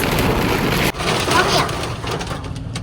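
Heavy rain pours down outside a parking lot in Canada, a dense steady hiss that briefly cuts out and returns, with voices speaking over it.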